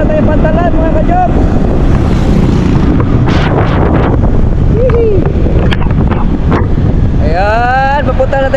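Motorboat running at sea with strong wind buffeting the microphone, a steady loud rush of engine and water throughout, with voices talking over it.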